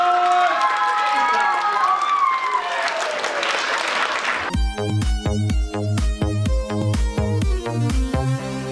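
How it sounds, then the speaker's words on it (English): An audience at a Catholic school fundraiser magic show applauds and cheers with whistles. Loud rhythmic music with a heavy beat then cuts in and continues over the crowd. "Give Rachel a big round of applause!"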